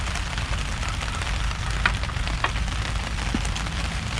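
Steady July rain falls on a campsite at KINTEX, pattering constantly on surfaces with scattered louder drops, close and even throughout with no talking.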